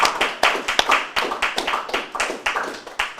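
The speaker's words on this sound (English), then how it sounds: "Applause after that mammoth feat." Sparse, rhythmic handclaps from a small crowd following a long chess win at the Gibraltar Masters Open, sharp individual claps close by and loosely in time, with no talking.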